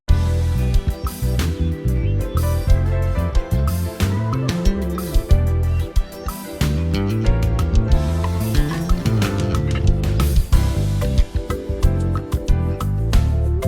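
A compressed bass guitar plays a busy riff of punchy, evenly levelled notes with a dense low end, continuous and alone.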